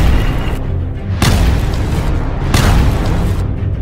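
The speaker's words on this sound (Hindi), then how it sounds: "इसराइल की सेना ने इस हमले के बाकायदा वीडियो भी जारी किए, जिसमें लेबनान और इसराइल की सीमा के पास मौजूद कुछ फौजी ठिकानों पर धमाके होते दिखाई दिए।" Israeli missile strikes hit Hezbollah positions near the Lebanon–Israel border, with two heavy booming explosions about a second apart landing over a constant loud roar.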